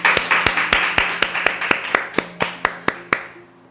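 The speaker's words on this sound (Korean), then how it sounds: "우리 하나 앞에 영광의 박수 칩시다." Clapping in a Korean church, heard as a close, sharp series of about fifteen distinct claps in a fairly even rhythm, with a faint background hum, the claps stopping just before the end.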